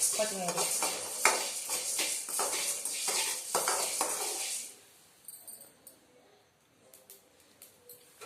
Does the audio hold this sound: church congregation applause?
no